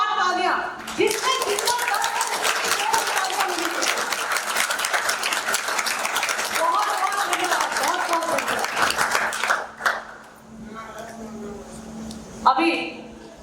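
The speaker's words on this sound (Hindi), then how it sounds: "क्या एक बार जोरदार तालियां" Audience at an organisational workshop gives loud, sustained clapping for nearly ten seconds, which then stops abruptly; talking follows and a brief burst of claps returns near the end.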